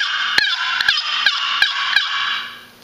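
A turkey box call scratches out a rapid series of raspy hen yelps, aggressive in tone, about six sharp strokes in quick rhythm, loud and close.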